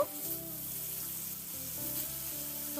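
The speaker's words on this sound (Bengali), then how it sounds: "এবার ওই গরম তেলের মধ্যে মাছগুলোকে ছেড়ে দিয়ে ভেজে নেব" Steady, soft sizzling of pomfret fish frying in hot mustard oil, close and continuous, with a faint background hum and no talking.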